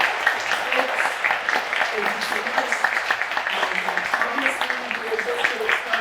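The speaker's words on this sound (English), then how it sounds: "Please offer a nice warm round of applause." A crowd applauds with steady, dense clapping throughout, while a voice speaks briefly over it.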